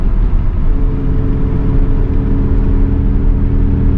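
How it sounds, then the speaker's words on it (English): Camaro engine running rough and missing under light throttle while driving, a steady low rumbling drone heard from inside the car with slight uneven pulsing and no talk. "when I try to give it gas, coming up to speed, it is missing a little bit"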